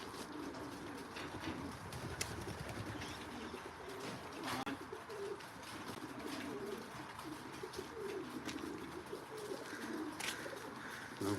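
Racing pigeons coo steadily in a loft, a soft continuous murmur of overlapping calls at close range with no talking.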